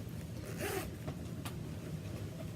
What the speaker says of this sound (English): I have a inside zipper pocket.